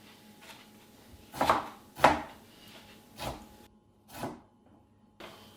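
Half an onion is chopped with a knife on a cutting board in a home kitchen, about five crisp, uneven thuds spaced roughly a second apart, close and clear against a quiet background.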